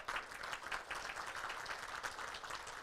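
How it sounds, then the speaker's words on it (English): A banquet audience at the CAIR Michigan annual dinner applauds in a soft, steady wash of many hands clapping, heard faint and distant throughout. "Yes, you should applaud."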